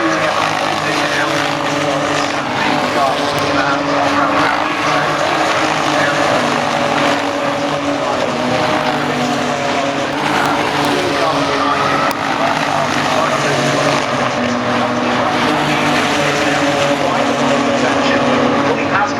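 GT racing cars at Brands Hatch in a British GT race, engines droning steadily and loudly throughout with a dense continuous roar, while a commentator talks over it.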